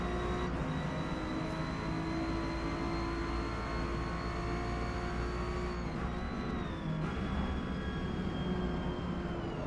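Racing car engines whine continuously in Forza Motorsport during an S-class race at Grand Oak in an Acura NSX, a steady high revving drone with a faint passing shift near the end.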